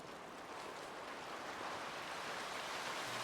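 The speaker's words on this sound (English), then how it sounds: "No, it's raining outside." Rain falls outside in a Wild West roleplay game, a soft, continuous wash of hiss that holds steady and swells slightly toward the end, with no voices.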